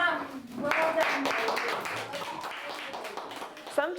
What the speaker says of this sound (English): let's give David a big clap